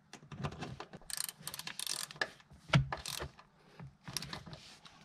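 A Torx screw is driven with a socket driver while working on the rear deck of a Mercedes-Benz C-Class W204: bursts of quick ratcheting clicks with short pauses and one sharper knock, close and fairly quiet.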